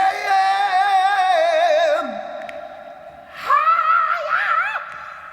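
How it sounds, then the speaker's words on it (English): A high, wailing rock scream in the style of David Lee Roth plays back, a long sustained shriek with wavering pitch that fades, then a second rising, warbling yell. "Can you get a David Lee Roth scream?"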